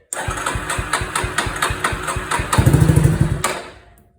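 A Yamaha Warrior ATV with the choke on cranks in a fast, even run of chugging pulses. It briefly catches into a louder, rougher rumble, then fades out and stalls, all close by with no speech.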